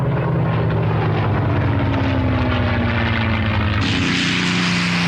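A P-51 Mustang propeller fighter flies close by with a loud, steady engine drone, its pitch sliding downward as it passes, and a harsher rush rising near the end.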